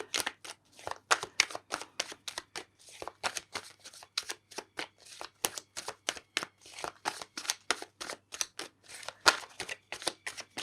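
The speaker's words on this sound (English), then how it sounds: "I'll keep shuffling." Tarot cards being shuffled over and over in quick riffling bursts, close and crisp, with short pauses between, no talking.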